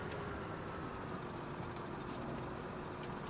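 A tractor engine in the video game Farming Simulator 17 drones at a steady, unchanging level, a dense low rumble with no pauses or other sounds.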